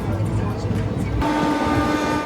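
Another train passing close alongside a moving passenger train near Ranaghat, West Bengal: a steady, loud rumbling roar whose character shifts abruptly midway as the passing train goes by, with a sustained tonal hum.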